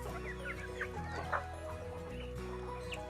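A flock of chickens at a village poultry farm raising pelung, Bangkok and kampung birds clucks continuously, with overlapping calls rising and falling over a constant low drone.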